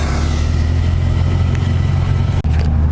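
Close, loud drone from a stage 2 Porsche 993 Turbo engine, a steady low mechanical roar with a brief dip near the end, no speech.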